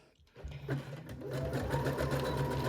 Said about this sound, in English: do a zigzag stitch on this seam allowance here